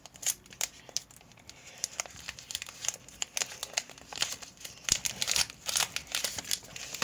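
Foil-and-plastic wrapper of a Dubai chocolate bar being torn open, close-up crinkling and rustling in irregular bursts that grow busier toward the end, with no talking.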